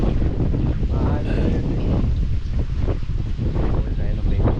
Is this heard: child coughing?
no